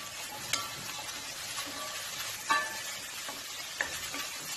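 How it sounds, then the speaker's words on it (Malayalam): Diced potatoes stir and sizzle in a pan with onions for a Kerala-style potato stew, a soft, steady frying hiss broken by a few sharp scrapes of the spoon, close and without talk. "ഇനി നമുക്കിതിലേക്ക് ഉരുളക്കിഴങ്ങ് ചേർത്ത് കൊടുക്കാം"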